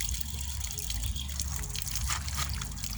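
Running water splashes and trickles continuously as feet are washed from toes to ankles during Muslim ablution, close by with a steady gushing flow.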